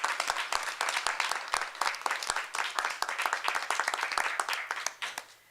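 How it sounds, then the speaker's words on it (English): Audience applause at a Philadelphia mayoral bill-signing event: steady, dense clapping from a mid-sized crowd lasting several seconds, with sharp individual claps standing out, then tapering off near the end. "Please give them a round of applause."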